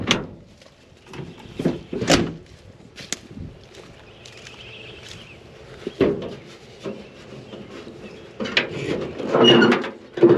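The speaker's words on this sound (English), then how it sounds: "Let's pop the hood." The hood of an old Chevy square body truck with a small block engine is popped and lifted open: a series of sharp metallic clunks, creaks and rattles, some loud and close, spread across about ten seconds.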